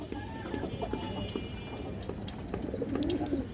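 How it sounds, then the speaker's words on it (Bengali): A female pigeon offered for sale coos softly in repeated low, rolling phrases close by, over a constant muffled background hum, with other birds faintly audible. "এই যে মাদিটা দেখেন দর্শক মাশাআল্লাহ খুবই সুন্দর কবুতর"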